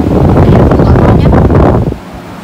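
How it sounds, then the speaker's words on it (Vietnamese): A Sowun SW891LX evaporative air cooler fan running at its highest wind setting gives a loud, close, steady rush of blowing air that drops off abruptly near the end. "Công suất gió thì chúng ta sẽ được điều chỉnh để làm gió to nhất."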